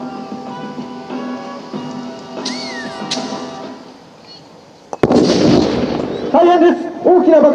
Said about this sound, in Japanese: 大きな爆発音です。